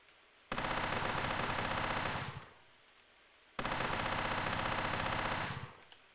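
Automatic weapon fire in a hardcore FPS game, two sustained full-auto bursts of about two seconds each, loud and close, separated by a short pause, with no talking.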